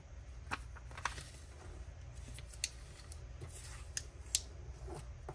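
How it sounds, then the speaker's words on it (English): Scissors snipping the corners of a paper envelope close by, a few quiet, crisp cuts spread across a few seconds over a soft background hiss, with no talking. "Cutting the corners at an angle."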